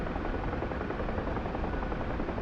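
UH-1 Huey helicopter in the DCS flight simulator, its rotor and turbine droning as a steady, loud, dense wash throughout with no pauses.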